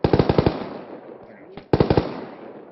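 Machine gun fire in the video game Arma 3, loud rapid bursts of about six shots, a pause filled with voices talking over radio chatter, then another close burst of similar length.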